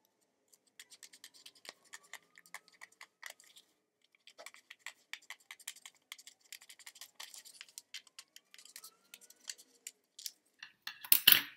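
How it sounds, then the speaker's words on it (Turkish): Scissors cutting paper along a drawn line to make a butterfly shape, a run of short crisp snips and crinkles close up, pausing briefly midway and ending with a louder rustle of paper. "Şimdi makasımla bu çizgiyi takip ederek kelebeğimi keseceğim"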